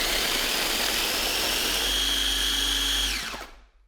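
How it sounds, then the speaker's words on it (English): A food processor blitzes cookies into crumbs for a peanut butter candy filling, a loud steady whirring motor grind that holds for about three seconds, then winds down and stops abruptly, with no talking. "you just place them into the food processor"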